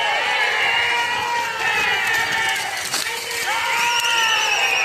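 Large crowd cheering and shouting continuously at the Iringalloor kalapoottu bull race in Kerala's Malabar region, a loud, dense roar of many voices with rising whoops and whistles, sustained throughout.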